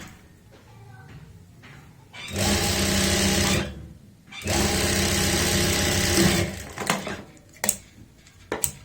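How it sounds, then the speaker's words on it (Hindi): A sewing machine stitches along the edge of a fabric pocket in two loud, steady, rapid runs, with a pause between them and quieter handling noises before and after. "यहाँ पे सीधा करने के बाद इसमें ऊपर से हम एक किनारे की सिलाई लगाएंगे"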